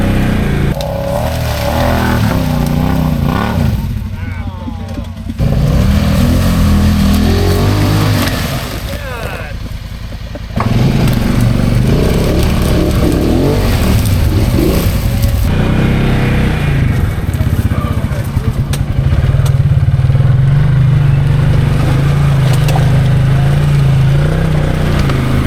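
A Can-Am off-road vehicle with diff lock engaged pushes through a lake, its engine droning loudly and steadily with surges of revving, close up, while a voice talks over it.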